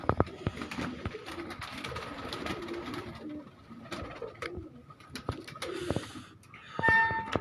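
Breeding pigeons in a loft coo repeatedly in soft overlapping calls over a busy background of flapping, shuffling and scattered clicks, with no talk.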